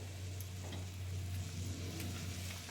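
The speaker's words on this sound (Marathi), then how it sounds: "मी लोखंडी तवा ठेवला आहे त्याच्यामध्ये कांदा खोबरं भाजून घेणार आहे" Onion and coconut roast on a hot iron griddle, giving a soft continuous sizzle with occasional faint crackles over a low steady hum from the stove.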